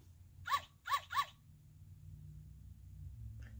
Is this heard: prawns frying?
no